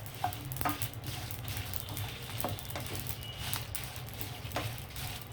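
Red chillies dry roasting in a pan with no oil, giving a steady low crackle and faint sizzle with occasional sharp ticks and scrapes as they are stirred, close and moderately quiet, no voices.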